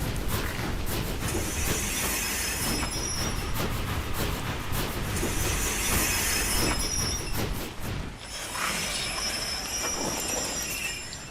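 Train rolling along rails in ARK Survival Ascended on the Scorched Earth map, a loud steady rumble of wheels with hissing, squealing high tones, continuous throughout with a brief dip near the end.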